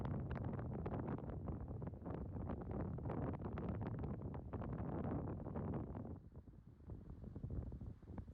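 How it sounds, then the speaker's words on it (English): Strong wind buffets the microphone on the coast in wintry weather, a loud continuous roaring rumble with gusty surges that eases briefly near the end before picking up again. "it's too windy"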